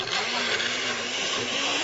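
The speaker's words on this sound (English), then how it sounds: "all of this goes into the centrifuge, like this blender" A blender runs continuously with a steady, moderately loud whirring motor hum and no breaks.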